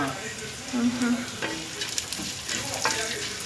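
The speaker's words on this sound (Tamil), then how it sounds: "மீன் பொரிக்கிறது கொஞ்சம் நிறையாவே இருக்கட்டும்" Steady crackling sizzle of fish frying in hot oil, close by, with a few clinks and stirring sounds.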